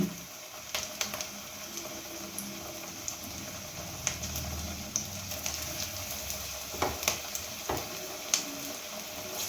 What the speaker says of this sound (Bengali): তো এখানে দেখতে পাচ্ছেন তেল গরম হয়ে গেছে। এবার আমি একে একে একটা করে পেঁয়াজি ছেড়ে দিচ্ছি।